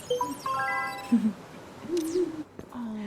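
Birds calling in Creatures of Ava, with several hooting, owl-like tonal calls and whistles spread across a few seconds at moderate distance over a soft ambient background.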